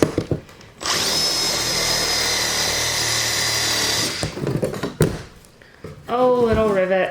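A power drill grinds steadily through old rivets on a 1970s Airstream Argosy trailer, a loud sustained metallic whine lasting about three seconds, followed by short bursts and clatter, then a person speaking close by.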